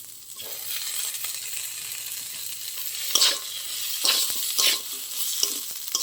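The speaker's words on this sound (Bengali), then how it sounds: "চালটা আমি ভেজে নিয়েছি, এবার বেটে রাখা মশলা দিয়ে দেবো।" Rice being fried in a pan with ground spice paste, likely in ghee, for a Bengali chal potol dish: steady close sizzling with several sharp stirring scrapes and bursts, no voices.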